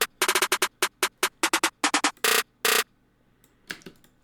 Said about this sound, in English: snares for when I wanted to mark that it goes into another section of the beat